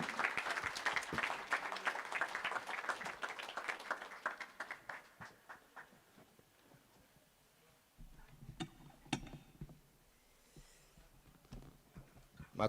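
Audience applause at a human rights report launch, loud dense clapping in the first few seconds that thins into scattered claps and fades to near quiet, with a few isolated claps near the end.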